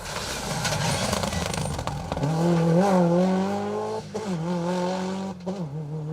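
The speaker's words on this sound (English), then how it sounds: "Car 45, Hugh Jeffries and Averina Jeffries in the Subaru Impreza" Subaru Impreza rally car on an asphalt special stage, engine revving hard and climbing through the gears as it passes close by, loud and alone with no talk.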